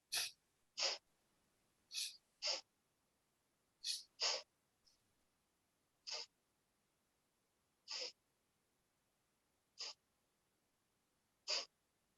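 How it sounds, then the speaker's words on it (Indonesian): Deep, rhythmic nasal breaths during a guided meditation exercise, heard as about a dozen separate inhales and exhales spaced a second or more apart, close and fairly quiet against a silent room with no talking. "Oke, tarik nafas."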